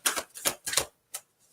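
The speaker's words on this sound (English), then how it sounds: "Did you see how much I shuffled that deck?" A deck of playing cards is shuffled in short, crisp riffling bursts, three quick rattles close together and then a brief snap after a pause, heard up close with no talking.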